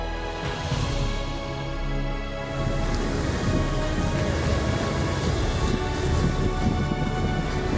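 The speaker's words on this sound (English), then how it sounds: "The devastating storm sweeps through the city, and everything seems to be engulfed in nature's fury." A thunderstorm with heavy rain sweeps through a city, dense steady rainfall hissing loudly and continuously, with rolling thunder rumbling beneath it.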